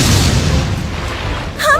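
A 'life explosion' attack from a Hindi-dubbed fantasy anime bursts out as a loud, sustained low boom that rumbles for nearly two seconds. A brighter crackling flare comes right at the end.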